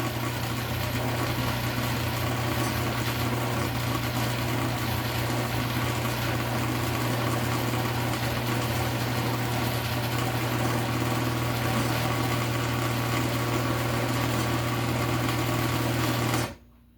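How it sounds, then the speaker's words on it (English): A blender runs steadily while blending raisins and currants together for a Christmas fruit cake, giving a loud, continuous motor whir with a strong low hum that holds for the whole stretch and then cuts off abruptly. "To blend the fruit for the fruit cake."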